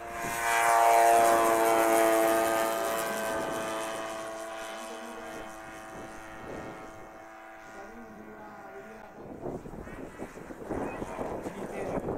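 Propeller aircraft at an air show climbs away, its droning, harmonic engine note loud at first then fading and shifting in pitch as it recedes, with crowd noise returning near the end.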